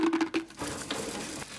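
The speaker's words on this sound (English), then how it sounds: "First I'm going to put the ice cubes." Ice cubes dropped into a big mixing jug for a berry mojito mocktail, a quick cluster of hard clinks and rattles followed by a brief crunchy settling, close and fairly loud.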